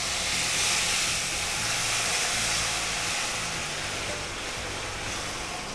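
Water poured onto semolina frying in ghee for chikku sheera sets off a loud, continuous steamy hiss and sizzle that slowly eases, with no talking over it.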